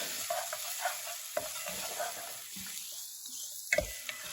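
Onions sauté in plenty of olive oil with a soft, steady sizzle, broken up by repeated spoon knocks and stirring scrapes against the pan.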